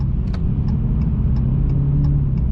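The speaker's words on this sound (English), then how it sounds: "if I let off this gas right now, this car is gonna turn off" A 1100 hp Dodge Hellcat Redeye with a fault, engine held running by feathered throttle, a steady low rumbling idle heard from inside with faint periodic ticks.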